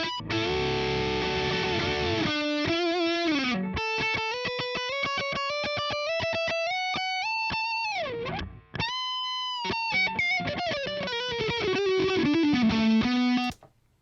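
Distorted electric guitar lick played through an Overloud TH-U amp simulator, sustained bent notes and fast picked runs with slides, loud and close with brief pauses.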